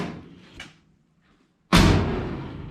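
A car door being opened and then shut after shimming to fix the panel gap: a faint click and rattle at first, then a quiet pause, then a loud, solid slam up close that rings out.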